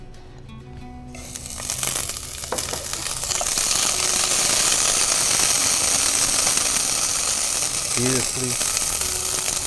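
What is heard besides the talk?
ground ginger frying in hot oil in a pan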